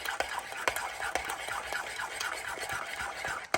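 Whisk or spoon stirring egg into pancake batter in a bowl, a steady run of soft scraping, sloshing strokes with small clicks against the bowl, close and fairly quiet.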